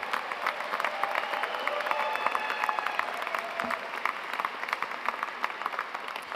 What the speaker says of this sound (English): how about a round of applause for all the love in the seats today?